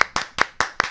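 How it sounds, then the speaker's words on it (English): Five sharp, evenly spaced hand claps in a quick steady rhythm from an audience at a live comedy morning show, each burst crisp and close. "Clap for me."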